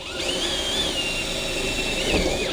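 A power drill whirs steadily at close range while drilling holes for rivet nuts during a Honda Integra DC2 fire extinguisher install, its motor pitch wavering slightly as it bites, with a brief bump near the end.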